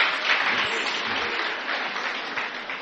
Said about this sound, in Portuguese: Vamos aplaudir o nosso amigo aqui, presbítero.